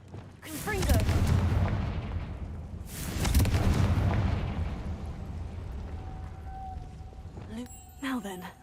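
Confringo blasting spell cast in Hogwarts Legacy: two loud, rumbling explosive bursts a few seconds apart, each decaying slowly, followed by quieter game ambience and brief tonal effects.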